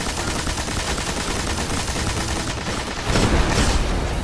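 Dense, continuous gunfire in the Destiny video game, a steady loud barrage of rapid shots with no pauses, swelling slightly louder toward the end.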